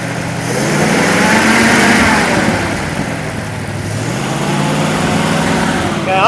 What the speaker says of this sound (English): Rev it up some more.